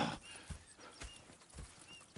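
Horses in the Red Dead Redemption 2 video game, with faint rhythmic hoofbeats clip-clopping at a steady pace and a hint of whinnying, quiet throughout the short stretch with no talk.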